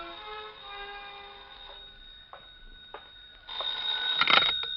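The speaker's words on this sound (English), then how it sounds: "when the phone rang" Telephone ringing as a radio drama sound effect from a 1950s CBS detective program, a steady bell tone with a louder, brighter burst of ringing near the end, alone with no voices.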